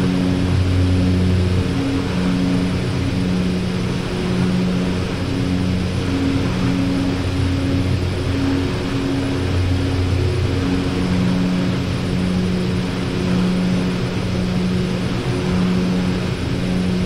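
An OV-10 Bronco twin-turboprop skims low over a dry lake bed in DCS World, its loud, steady propeller drone and engine hum filling the whole stretch with slight pulsing tones and no voices.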